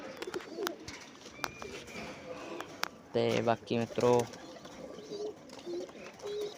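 Pigeons in a village rooftop loft at dawn, with a loud burst of cooing in the middle over faint bird chatter, while someone talks throughout.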